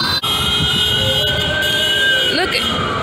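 Emergency vehicle sirens wail loudly in a city street, a steady sustained tone with a rising and falling sweep near the end, over constant traffic rumble.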